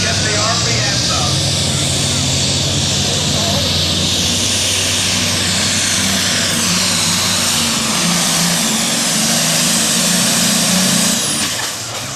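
A pulling tractor at a truck and tractor pull roars loudly and steadily, a deep engine drone that stays strong throughout as it rolls out, with a crowd and announcer audible beneath it.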